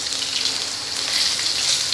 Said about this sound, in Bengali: দিয়ে বেগুন গুলো দিয়ে দিচ্ছি,